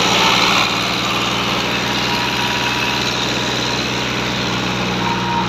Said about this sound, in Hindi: हाँ थ्रैशर अपनी लाई है, ट्रैक्टर लगा जी।